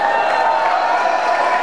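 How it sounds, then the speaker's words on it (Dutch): Audience applause at a village festive evening in Bergentheim, a dense, steady wash of clapping and crowd noise filling the whole stretch at close range. "applaus"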